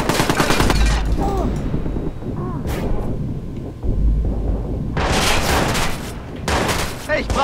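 Heavy gunfire from the video game Watch Dogs rings out in loud, dense bursts and volleys that return after brief lulls, with a rumbling, explosive mix beneath.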